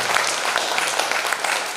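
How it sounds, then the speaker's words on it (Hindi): Applause at a Hindi poetry gathering in Ujjain: dense, steady clapping fills the whole moment at full strength, a continuous wash of many hands from the audience. "अपने दोनों हाथ ऊपर उठाइए और उस बेटी का सम्मान कीजिए तालियों की गड़गड़ाहट के साथ।"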